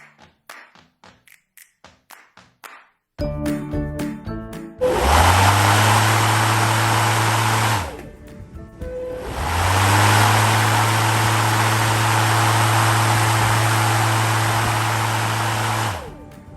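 A Makita DLM432 cordless 18Vx2 lawn mower with a 430 mm deck, after a few light taps and clicks, starts and runs in two long bursts of steady electric whirring with a brief pause between them. No one speaks.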